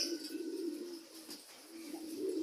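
Soft, low pigeon cooing repeats in gentle rolling calls, fairly close but quiet, with faint ambient noise between; among the pigeons is one with a prolapsed vent.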